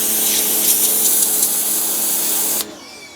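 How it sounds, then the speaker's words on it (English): A Paxcess 1800 W electric pressure washer blasts a weed in a steady, loud hissing spray, close by, then cuts off abruptly near the end, leaving a quiet motor hum. "that with the Paxcess 1800 watt electric power washer"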